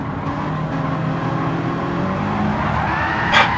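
Gran Turismo 7 race car at Bathurst spinning out, a continuous engine drone with tyre noise and a brief squeal of skidding rubber near the end, fairly loud and without talk.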